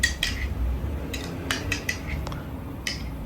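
A spoon stirs ambil, a chilled buttermilk and millet drink, in a vessel, giving a few sharp clinks and scrapes scattered irregularly over a quiet room background.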